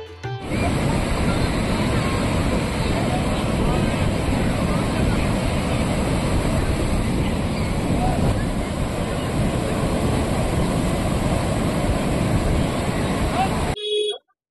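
Sea waves wash onto Puri beach at dawn, a steady loud roar of surf with wind buffeting the microphone throughout, ending abruptly near the close.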